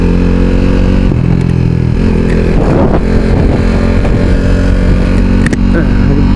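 A KTM RC 390 motorcycle ridden on an early-morning ride at sunrise, its engine a steady loud drone with brief surges in pitch, together with wind rush throughout.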